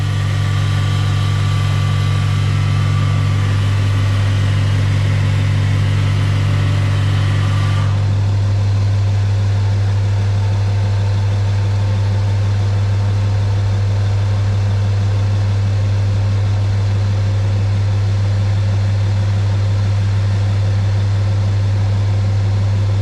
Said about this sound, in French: Donc là la machine passe en injection d'additifs, des flèches pour le nettoyage de la boîte de vitesse